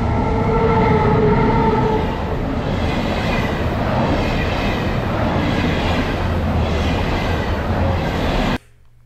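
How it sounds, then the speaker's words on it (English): A loud train rumbles past close by in the Rhine Gorge, a steady heavy roar with rattling wheels that cuts off abruptly near the end. "ensuring that we do not get run over by a train"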